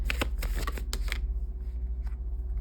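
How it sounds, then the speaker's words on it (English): Tarot cards being shuffled by hand in a quiet room, a quick run of crisp riffling snaps and soft slides up front, then faint card taps and shuffles trailing off. "I feel like I have to shuffle again"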